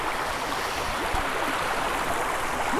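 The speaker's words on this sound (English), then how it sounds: "Got a little brook on the side." A small brook runs beside a gravel bar near an off-grid cabin, giving a steady, soft gurgling rush with faint trickles, close and continuous, with no talk.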